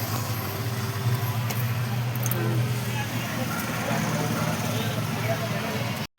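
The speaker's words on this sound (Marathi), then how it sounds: "सो काय तर आम्ही रिक्षात बसलो." Auto rickshaw ride in Kashi with a steady engine rumble and road noise underneath, people talking over it throughout.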